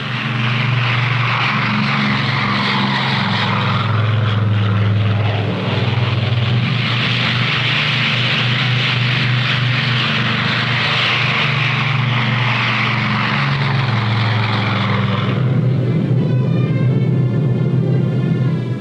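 Air Force C-54 and C-47 propeller transport aircraft engines in a continuous loud, close drone with a deep steady hum and broad roar, a sharper shift in tone near the end, no talk.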